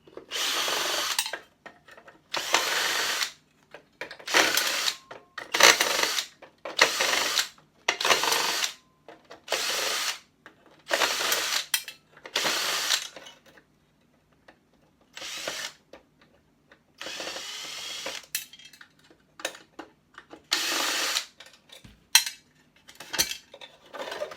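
Power tool driving out bolts from inside an assembly, heard as loud, close bursts of whirring drill noise separated by short pauses, roughly a dozen runs with metallic clatter in between and no speech.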